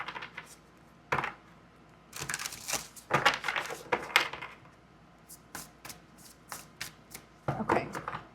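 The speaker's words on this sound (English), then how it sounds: "Let me give this deck a quick shuffle." A tarot card deck shuffled by hand, giving repeated bursts of crisp riffling and flicking cards separated by short pauses, close and fairly quiet, with no talk.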